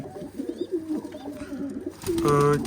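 Pigeons coo softly nearby, low throaty calls repeating, with a louder, clear coo near the end over faint background murmur.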